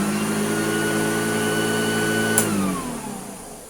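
A Hoover Junior vacuum cleaner motor runs with a steady low growl and a whining hum, close and loud, then begins winding down and dropping in pitch near the end.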